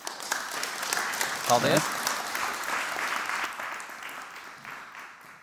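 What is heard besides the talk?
applause for the team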